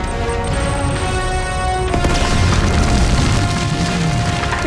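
Grenade blasts in Uncharted 2, a loud boom with a splintering crash at about two seconds over constant dense game-combat noise.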